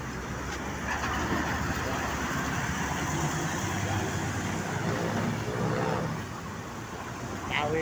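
Cars and other vehicles pass and idle at a road crossing, a steady broadband traffic rumble with engine drone that eases slightly near the end, with faint voices in the background.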